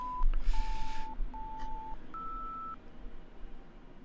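A BBC technical test card signal plays as a sequence of three clean, sustained tones, the last one higher, after a brief opening blip and a short hiss burst.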